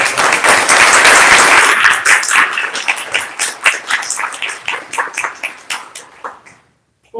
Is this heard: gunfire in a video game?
no